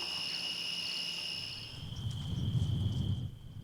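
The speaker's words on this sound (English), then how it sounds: "the perfect evening entertainment is just to chill out on the porch and listen to the crickets." Crickets chirp at night beside a porch on a working cattle ranch, a faint, steady high trill. Partway through, a low rumbling noise swells underneath and then drops away near the end.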